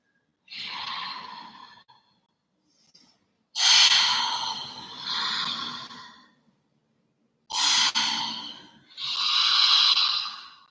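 Deep, loud breaths during a yoga fish pose, with four or five long inhales and exhales drawn close to the microphone. Separated by short pauses, the breaths sound breathy and rasping, with no talking.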